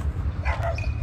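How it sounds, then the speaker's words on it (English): A dog outdoors near parked cars at night gives a short yip and bark amid low rumbling background noise, close but brief, with no talking. "There's a dog right here."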